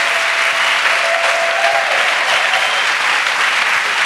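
A church congregation claps for Jesus during a nightly fasting crusade service, dense sustained applause from many hands filling the hall steadily without a break, with faint crowd murmur underneath.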